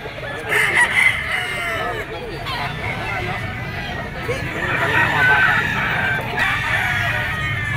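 At the Grotto pet tiangge market, a yellow-legged gray gamefowl rooster crows loudly, with clucking poultry nearby. Someone talks over the crowing, and market chatter fills the background.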